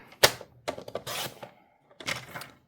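Card paper being trimmed to size on a paper cutter, a few crisp, quick slicing and clicking strokes close by, separated by short pauses with no talking.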